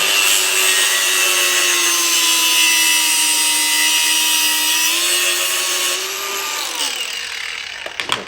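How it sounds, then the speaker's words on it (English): A small angle grinder cuts about 10 inches off a 10-foot length of hose, giving a loud, steady, close whine that holds for several seconds and then drops in pitch as the cut finishes and the tool spins down. "So I'm going to take the little grinder here."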